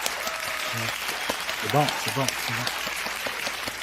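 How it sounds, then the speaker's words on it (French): Studio audience applauding to vote for a contestant on a Quebec television show, broadband clapping running steadily throughout, with a voice speaking briefly over it. "donnez-moi une belle main d'applaudissement"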